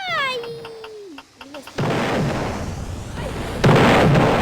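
Heavy booming cannon shots blast twice with sharp, loud onsets, following a falling electronic whistle and brief game sound effects, in a Roblox ship battle game.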